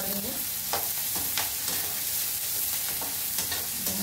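Okra (bhindi) sizzles steadily while frying in a pan, stirred with repeated scraping strokes at a close, moderately loud level, with no talking.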